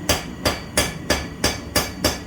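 Steel hammer blows flattening a lip on a steel weight bar, seven evenly spaced sharp metallic strikes at a steady rhythm, loud and close with no voices.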